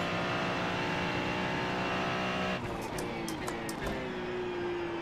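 GT race car in iRacing at Watkins Glen drones with a steady loud engine tone, then a rough downshift cuts in with sharp pops and a drop in pitch before the engine settles again.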